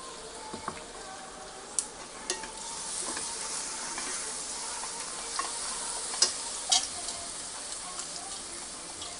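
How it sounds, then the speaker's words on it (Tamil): Ginger garlic paste frying in a pan for a spicy South Indian mutton curry, a steady soft sizzle with scattered sharp clicks of stirring, moderately quiet and without talk. "இப்போ இஞ்சி பூண்டு பேஸ்ட் போடுறோம்."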